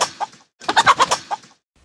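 Cartoon chickens cluck close by in a quick run of short, sharp calls, one brief call, a pause, then a rapid burst.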